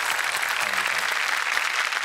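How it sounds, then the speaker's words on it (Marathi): A studio audience at a comedy show claps loudly and steadily for about two seconds, a dense, even round of applause with no voices over it. "त्यांच्यासाठी एकदा जोरदार टाळ्या."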